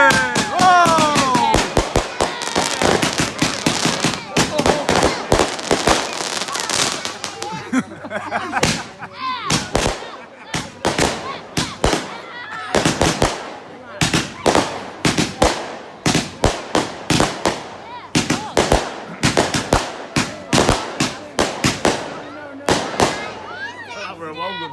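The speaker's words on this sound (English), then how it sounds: "That were one good firework." Bonfire night fireworks at a house go off in a long, dense barrage of sharp crackling bangs, loud and close, thinning into scattered pops, while people shout and talk throughout.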